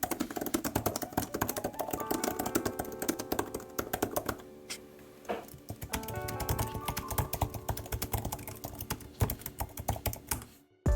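Steady, rapid typing on an iPad Pro M4 Magic Keyboard with aluminum palm rest, dense close key clicks in continuous bursts with a short pause midway.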